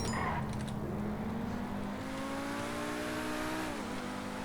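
A Pegassi supercar in GTA V Online revs and accelerates, its engine note climbing steadily in a loud, sustained whine before dropping briefly near the end, over a constant background hum.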